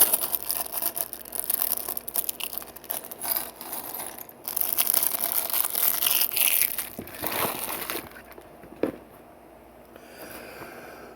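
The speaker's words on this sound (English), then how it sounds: "We gotta get a plastic bag ASMR out of the way." A plastic bag of Lego Friends pieces crinkles and rustles steadily up close, with small plastic bricks clattering and rattling as they are poured out, the noise easing toward the end.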